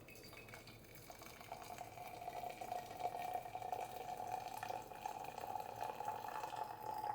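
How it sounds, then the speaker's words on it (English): Hot water poured onto fresh Huangshan chrysanthemum tea in a cup: a faint, steady trickle with a thin ringing tone as the vessel fills, continuous and quiet with no talking. "Then I put in hot water."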